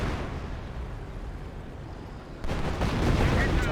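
Officer artillery fire lands on infantry squads in the strategy video game Company of Heroes. A dense, rumbling barrage swells into louder booming blasts partway through, heavy and sustained across the whole stretch.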